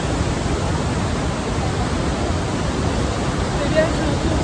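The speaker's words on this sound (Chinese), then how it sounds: "然后这里都是莱茵瀑布" Rhine Falls pours as a loud, unbroken broadband roar of heavy falling water, close and constant throughout with no breaks.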